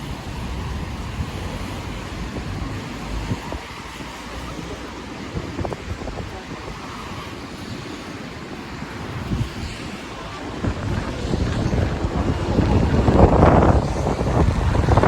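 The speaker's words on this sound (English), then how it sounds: "Ooh, it's still pretty windy." Steady wind buffets the microphone throughout at a Frankfurt Christmas market at night, a constant low rumbling roar that grows stronger toward the end, with distant background noise beneath.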